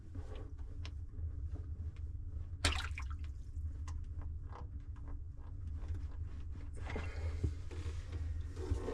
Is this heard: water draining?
yes